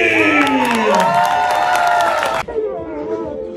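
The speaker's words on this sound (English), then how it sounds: "this crowd is gonna clap so loud for you, it's gonna be incredible" An awards-night crowd cheers and claps loudly right up close, a dense burst of whoops and shouts that cuts off abruptly, leaving a thinner tail of voices.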